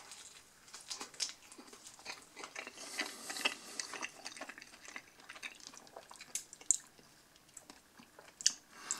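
Someone chewing a bite of salami pizza up close, soft wet crunching and munching in an irregular rhythm over several seconds, quiet and without talk.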